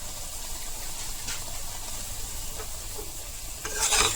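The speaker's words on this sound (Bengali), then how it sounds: "এখন আমি এটা লাড়াচাড়া করিয়া মিলাইয়া দিলাম" A vegetable curry of drumstick, okra, tomato, onion and coconut powder is stirred and mixed in a pan, giving a soft continuous sizzle with faint scraping, and a brief louder clatter near the end.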